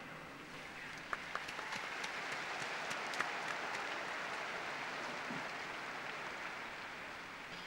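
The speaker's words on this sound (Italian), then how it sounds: "Un applauso ai nuovi beati" A large crowd at the papal Angelus in Saint Peter's Square applauds the newly beatified, a steady, distant wash of clapping with a few closer claps popping out early on.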